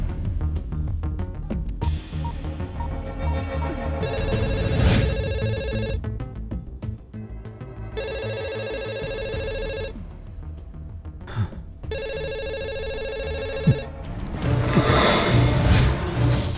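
A mobile phone rings loudly in a repeating electronic ringtone pattern of bursts with short gaps, set against background music and swooshing effects.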